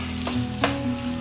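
Roasted semolina with a pinch of cardamom powder is stirred in a non-stick pan, giving a low steady sizzle and two soft scrapes of the spoon.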